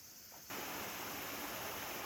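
A valley stream flowing under a small bridge on a trekking trail, heard as a steady, loud broadband rush of water that starts abruptly after a brief quiet moment.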